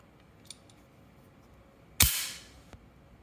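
A single sharp pistol follow-up shot from a Hellcat Pro or P2000sk cracks loud and close, then rings out in a short decaying tail; a faint click comes just before it and a small tick follows.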